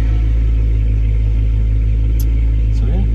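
A BMW with the N54 engine idles steadily while warming up, a loud, constant low rumble throughout, with a faint brief rise at the end.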